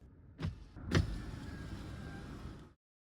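A Mazda CX-30's electric window motor whirs steadily for a couple of seconds after two soft thumps, then cuts off into silence.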